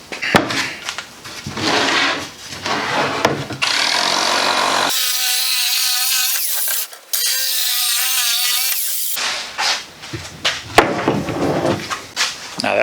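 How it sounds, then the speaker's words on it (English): A jigsaw cutting wood during construction of a Tango skiff 18 boat: rough, rasping cutting passes around a stretch of steady, high motor whine in the middle, loud and close with no talking. "We're going to cut this out with a jigsaw."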